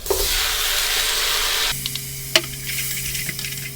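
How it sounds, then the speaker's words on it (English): Tomatoes drop into a pot of chilies, garlic, ginger and onions, a broad loud sizzle that cuts off sharply partway through, leaving a quieter steady hiss with a low hum and a few clicks. "We will now add in our tomatoes."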